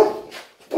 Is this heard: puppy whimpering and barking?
yes